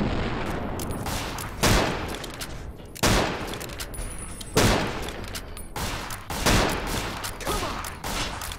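Gunfire in Fallout: New Vegas: loud, heavy shots roughly every one to one and a half seconds, each a sharp blast that rings out, over a dense, continuous layer of combat noise.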